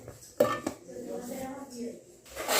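Carrot pieces, already cut up for carrot rasmalai, being dropped into a mixer jar, with a couple of sharp clinks of metal and utensils near the start, then softer handling and shuffling in a kitchen.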